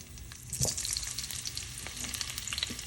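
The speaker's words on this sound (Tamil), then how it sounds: "இப்போ பொட்டாட்டோவை லைட்டாக பொரிச்சு எடுத்துக்கொள்வோம்" Potatoes fry lightly in oil in a home kitchen pan for a drumstick curry, giving a steady soft sizzle with a few stirring clicks.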